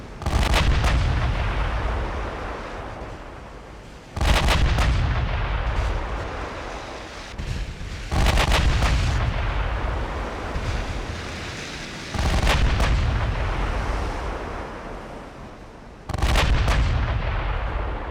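Warship main guns fire in the naval strategy game Ultimate Admiral Dreadnoughts: five heavy booming salvos arrive roughly every four seconds, each with a loud sharp crack and a long rumbling decay.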